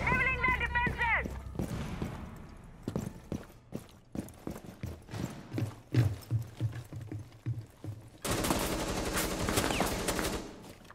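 Video game shootout gunfire: a series of sharp, irregular shots and bursts of varying loudness, followed by a denser, louder stretch of rapid fire near the end, with voices speaking over the action.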